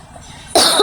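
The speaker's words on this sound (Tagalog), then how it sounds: "Excuse guys, ako ang ubo." A single sharp cough, close and loud, from a person at an indoor mall show venue.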